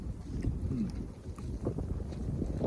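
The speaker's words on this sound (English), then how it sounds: "It'll just be random, really powerful gusts of wind." Gusty wind buffets an outdoor microphone at a ghost town, a loud low rumble that swells and dips in uneven gusts and keeps going throughout, with no talking.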